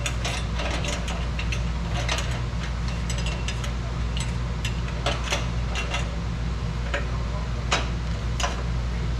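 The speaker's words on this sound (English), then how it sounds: "it's just a matter of clamping this thing together" Rapid ratchet clicks in quick irregular bursts while exhaust clamps are tightened on a Ford 7.3 PowerStroke truck getting a new MBRP exhaust, close and fairly loud over a steady low background hum.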